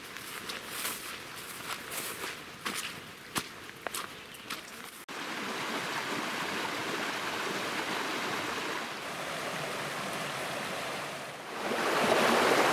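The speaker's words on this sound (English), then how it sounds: "we've been following this little creek, running just right down the left side of the trail" A small creek runs beside a forest trail in the Cranberry Wilderness, a steady close rushing wash of water, with scuffing footsteps and crisp taps early on.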